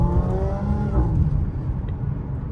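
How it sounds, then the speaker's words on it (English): An Audi S4 B8.5 with a supercharged V6, 034-tuned, gives a short quarter-throttle rev, a loud close rising engine note that quickly settles back down. "that was just a little quarter throttle, little rip there"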